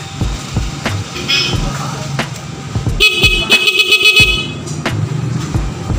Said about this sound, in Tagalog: gumagana po yung busina